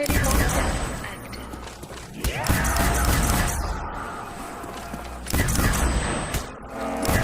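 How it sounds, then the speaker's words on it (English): Ray gun fired repeatedly at zombies in the war room of the Call of Duty Zombies map Five, loud bursts of booming shots and energy blasts in clustered volleys, with a voice talking over the gameplay. "the ray gun pretty much clears them out without any problems whatsoever"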